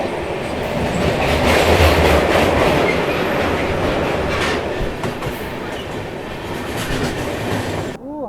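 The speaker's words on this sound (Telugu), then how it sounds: "ఎస్ఎంవిటి బెంగళూరు నుండి గువాహటి వెళ్ళే గువాహటి సూపర్ ఫాస్ట్ ఎక్స్ప్రెస్." The SMVT Bengaluru–Guwahati Superfast Express rushes past close by with a loud, continuous rumble and rhythmic clickety-clack of wheels over rail joints, a faint squeal appearing at the very end.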